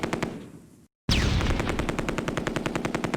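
A .30 cal machine gun team fires in the WWII strategy game Close Combat: A Bridge Too Far, rapid evenly spaced bursts of shots, loud and close, with a brief silent gap before firing resumes.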